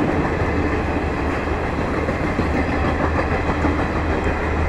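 Garib Rath Express from Muzaffarpur to Anand Vihar rumbling past at close range in India, a steady dense roar of wheels and wagons with faint rhythmic clatter throughout, no voices.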